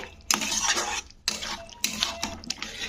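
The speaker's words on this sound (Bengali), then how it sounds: "ভেজে রাখা আলু আর ওলকপিগুলোকে দিয়ে দিলাম তো দিয়ে কিন্তু মশলাটার সঙ্গে কষে নিতে হবে" Fried potatoes and kohlrabi tossed with spices in a pan, stirred in bursts of metallic scraping and clatter with short pauses between strokes, close and moderately loud with no talking.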